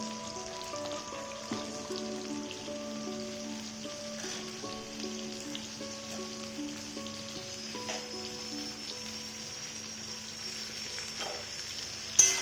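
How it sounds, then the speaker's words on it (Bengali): Sliced onion frying in a kadai with green chilli, bay leaf, cloves, cinnamon and cardamom, giving a steady, soft sizzle that stays even throughout and ends in a brief louder clatter. "আমার কড়াইয়ে ভাজা হচ্ছে পেঁয়াজটা ভাজছি"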